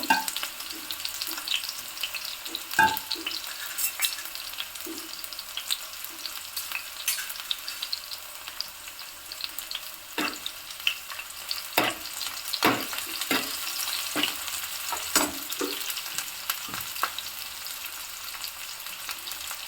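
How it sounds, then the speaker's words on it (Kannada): Onions fry in a pan with salt for a green chicken dish, a steady crackling sizzle that runs on throughout, broken now and then by sharp clicks and scrapes of stirring, close and fairly loud with no talking. "ಸ್ವಲ್ಪ ಈರುಳ್ಳಿ ಬಂದುಬಿಟ್ಟು ಗೋಲ್ಡನ್ ಕಲರ್ ಆಗೋವರೆಗೂ ನೀಟಾಗಿ ಫ್ರೈ ಆಗಬೇಕು"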